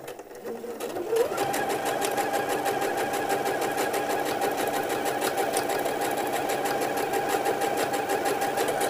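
A sewing machine stitches steadily along the long edge of a men's shirt collar, a close, continuous rapid mechanical whir that starts after a brief quiet moment and runs evenly without talk.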